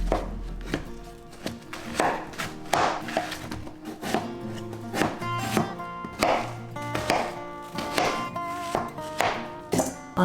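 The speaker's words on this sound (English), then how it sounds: "We are going to cut our watermelon into very small" Knife chopping watermelon into small cubes on a cutting board, a run of close, sharp, irregular chops and taps over about ten seconds with no talk.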